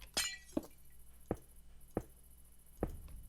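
Glass panes being placed one by one in Minecraft, heard as a series of five sharp clinking glass taps spaced roughly half a second to a second apart over a faint background hum.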